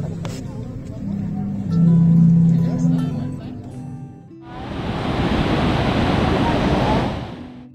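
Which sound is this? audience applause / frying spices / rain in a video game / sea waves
sea waves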